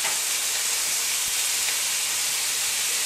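Lemon juice squeezed into a hot pan of mixed seafood sets off a loud, steady hiss of steam and sizzle, continuous and close with no voices.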